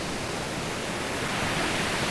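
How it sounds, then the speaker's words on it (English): Ocean waves washing onto a beach make a steady, unbroken hiss of surf that swells slightly louder toward the end, with no voices. "I hope the waves don't distract you. I hope they calm you."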